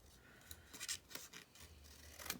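Scissors cutting around a small paper piece on a craft card: a series of soft, close snips and crisp rasps at an uneven pace, quiet and with no talking.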